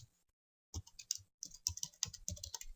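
Close, quiet typing on a computer keyboard while code is being written, with a burst of rapid key clicks after a short pause and no talk over it.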